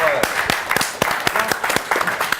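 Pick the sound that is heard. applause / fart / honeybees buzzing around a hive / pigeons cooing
applause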